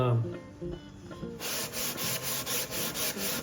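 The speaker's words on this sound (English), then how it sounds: "I'm going to use my little orbital sander on it" After a brief quieter start, an orbital sander with 120-grit paper grinds against a wooden guitar body in rhythmic, pulsing strokes, loud and close, continuing to the end.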